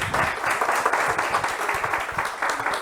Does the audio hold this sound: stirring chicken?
no